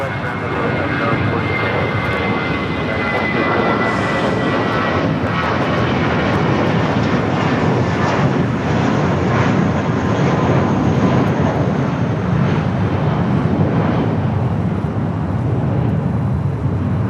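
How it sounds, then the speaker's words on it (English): An Airbus A320 jet at Los Angeles LAX roars steadily and loudly throughout, a sustained broadband engine rush with a faint whine, close by and continuous. "it's A320."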